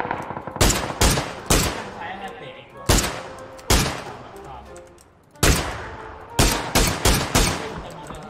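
Loud close gunshots in PUBG, sharp single and clustered rifle cracks in an irregular rhythm, each trailing a brief echo, while players talk over them.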